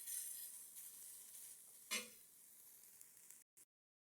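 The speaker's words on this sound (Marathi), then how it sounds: "थोडासा काळा कलर येस्तोवर कांदा भाजून घ्यायचा मस्त." Onion roasts in a pan for mutton masala, a soft continuous sizzle with one brief stirring scrape midway, then abrupt silence near the end.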